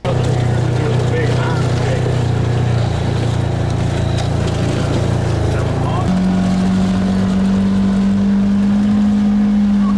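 A big ATV used for rigging on a wild hog hunt runs with a loud, steady engine drone that drops into a lower, smoother idle tone partway through, continuous and close.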